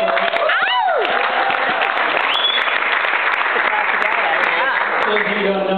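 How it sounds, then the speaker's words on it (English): Wedding guests break into loud, sustained applause during a best man's speech, with whoops and cheering voices rising over the clapping. The applause stays full and even from start to finish. "Everyone give a round of applause."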